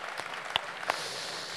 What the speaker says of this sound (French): Mais je crois qu'on peut s'applaudir, c'est fabuleux.